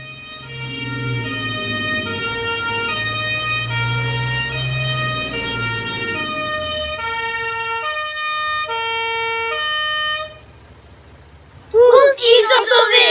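A cartoon fire engine's siren wails loud and steady in a two-tone pattern for about ten seconds over music, then stops; a voice speaks briefly afterward.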